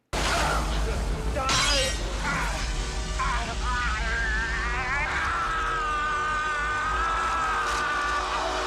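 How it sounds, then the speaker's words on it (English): A helmet smashes as a man tumbles down a rocky cliff in a Total Recall film scene on Mars. A loud, sharp shattering crash comes early, followed by a dense, noisy movie soundtrack with rising, whining tones and low rumble. "Basically, it smashes his helmet."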